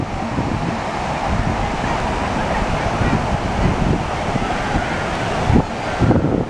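Ocean surf washing onto a Los Angeles beach makes a continuous broad rush, heavily mixed with wind buffeting the microphone, with a couple of louder gusts near the end.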